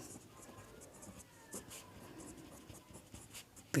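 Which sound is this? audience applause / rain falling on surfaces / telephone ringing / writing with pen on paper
writing with pen on paper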